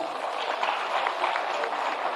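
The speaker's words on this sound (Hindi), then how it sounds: "जोरदार ताली।" Applause from an audience at a ceremony handing out appointment letters to teachers, a steady dense patter of many hands clapping throughout, moderately loud and continuous with no talk.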